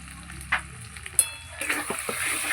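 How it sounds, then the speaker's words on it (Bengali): Spice paste with turmeric, chili powder and salt sautéing alongside goat liver and fat, a soft steady sizzle with a few sharp scraping stirs, growing louder and denser in the second half, no talking. "মশলাটাকে ভালো করে কষিয়ে নেব।"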